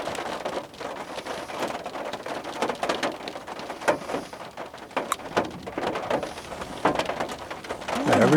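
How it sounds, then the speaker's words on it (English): Heavy rain with large drops pounds down outdoors during a thunderstorm, a dense, steady close-up patter that carries on through the whole stretch without pause. "That's some serious raindrops."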